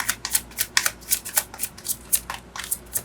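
Tarot cards being shuffled by hand, a quick run of crisp, papery riffling bursts in a steady rhythm, close and moderately loud with no talking.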